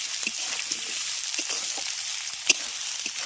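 Vegetables frying in a pan for a vegetable dal, a steady close sizzle with scattered pops and one sharper crackle, heard alone without talk.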